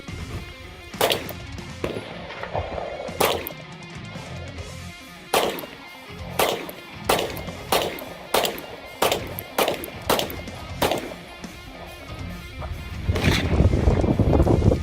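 A Springfield Hellcat 9mm pistol fires outdoors in the desert, with about a dozen sharp, loud shots at uneven intervals, some in quick pairs, over wind noise and no talk.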